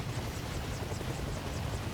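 A helicopter's rotor in the video game ARMA Reforger thrums steadily and loudly, a constant rhythmic chopping drone throughout with no voices.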